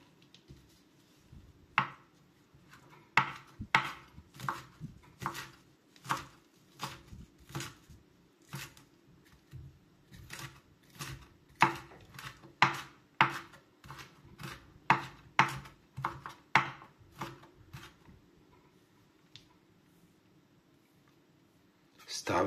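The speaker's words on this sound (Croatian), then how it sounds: "Narežite svježe listove portulaka." A knife chops fresh purslane leaves on a cutting board in a kitchen, with a series of crisp, irregular taps close by that quicken into a steady run before stopping.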